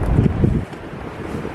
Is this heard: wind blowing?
yes